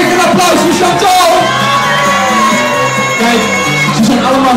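Lively crowd at a Kermis FM fair show cheering, whooping and yelling loudly for a contestant, with shouts rising in bursts over background music and a host's voice mixed in.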